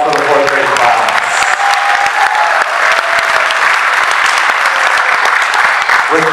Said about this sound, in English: can we get a huge round of applause for the fourth grade class?